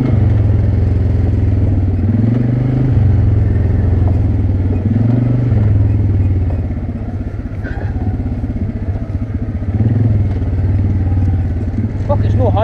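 A road-legal quad bike works its way down a rough hillside at about 1400 ft in the Scottish hills. Its engine holds a steady, close, low rumble with slight rises and dips and some clattering over the bumpy ground.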